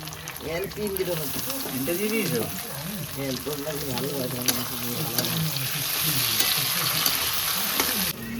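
Onion, ginger and tomato fry in a pan with a continuous sizzle and occasional stirring scrapes. Someone talks over the cooking throughout.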